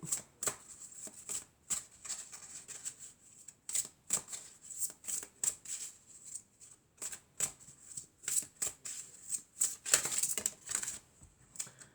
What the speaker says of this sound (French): on va prendre une carte de l'oracle des anges et des cristaux pour avoir la pierre bénéfique pour aujourd'hui